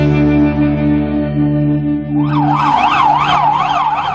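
A fire engine siren sounds loudly and close as the truck is dispatched to a fire in Seocho-gu, Seoul. A long steady wail gives way to a rapid rising-and-falling warble.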